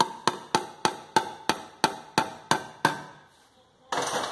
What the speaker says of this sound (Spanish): Vamos a darle unos golpes suavecitos.